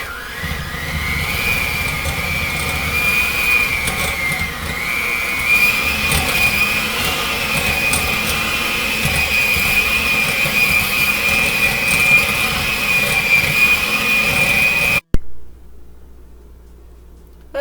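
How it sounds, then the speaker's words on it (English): A handheld blender whirs steadily in a bowl of German apple pie ingredients, a continuous high-pitched motor whine with a gritty mixing texture that runs close and loud for about fifteen seconds before cutting off abruptly. "the next thing is going to be to hand blend all the ingredients in this bowl"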